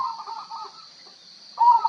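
A local zebra dove (perkutut) coos at dawn, two soft, repeated phrases separated by a short pause, fairly faint and distant against a quiet morning background.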